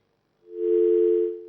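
A telephone line tone rises after a call to a civil surgeon is cut off. It is a single steady hum that swells in and holds for about a second, clear and alone with no voices.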